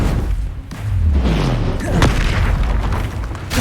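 In the Hogwarts Legacy video game, a Bombarda spell detonates amid combat. Loud, close booming blasts roll continuously with rumbling low thuds and crackling debris.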